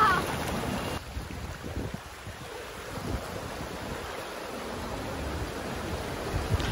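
A car pushes through deep floodwater on streets swamped by a heavy rainstorm in Kaifeng, giving continuous broad sloshing and rushing water noise, loud and close, with a brief dip partway through.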